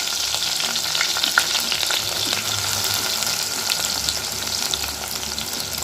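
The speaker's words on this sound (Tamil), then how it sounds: "நல்லா வெந்தயமும் ஜீரகமும் நல்லா பொரிஞ்சிருச்சு" Steady crackling sizzle of fenugreek and cumin seeds frying in hot oil, a dense continuous spatter close up with no voices.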